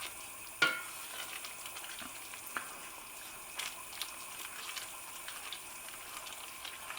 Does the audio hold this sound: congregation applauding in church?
no